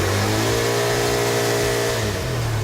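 A car rolling on new Continental PremiumContact 6 tyres drives with a steady engine hum that rises and falls slightly as it revs, close and continuous with road roar and no talking.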